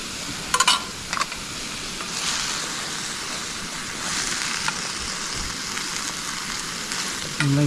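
Food sizzles and fries in a pan at a wild jungle campsite, a continuous crackling hiss up close with a few sharper clinks of utensils near the start.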